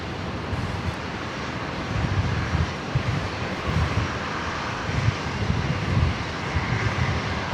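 An airliner landing on runway 01 right at Brisbane airport, a steady broadband engine roar that stays loud and constant throughout, with gusty wind noise buffeting the microphone and no talk.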